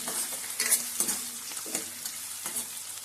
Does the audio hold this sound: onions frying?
yes